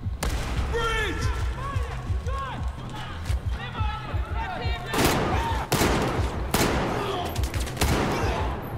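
Revolver handgun fire in the video game Battlefield 4, several loud, sharp shots spaced a second or so apart, heard close and mixed with other game noise while someone talks over it.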